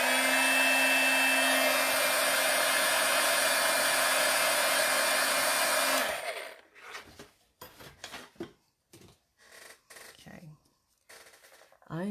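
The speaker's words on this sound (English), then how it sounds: "I'm going to use my, my heat gun to make sure it's fully dry before I start blending" A heat gun blows a loud, steady whir for about six seconds while drying ink on a handmade card, then shuts off, leaving short bursts of nearby talk.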